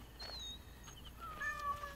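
A cat in Assassin's Creed Origins gives a few short, high meows, faint and thin over low game ambience, with no talking.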